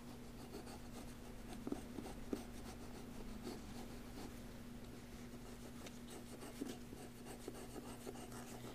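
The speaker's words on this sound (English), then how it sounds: "I'm just burnishing" A pair of scissors used as a hard smooth tool is rubbed firmly over paper during a craft project, giving a soft continuous scraping with faint ticks, quiet under a steady low hum.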